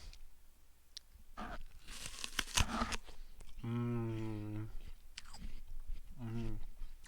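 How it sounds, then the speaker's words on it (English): Crisp bites and crunchy chewing of an apple, close and quiet, a cluster of crunches early on, with brief voiced murmurs in between. "ASMR eating apple."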